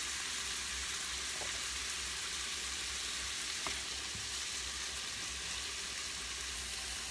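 Calamari pasta sauce with artichokes fries in a pan with a steady, continuous sizzle, one even wash of crackling that runs throughout with a couple of faint clicks and no voices.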